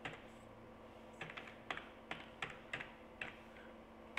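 Java code being typed on a computer keyboard: sharp, quiet key clicks come in short irregular bursts and single taps over a faint background hum, with nobody speaking.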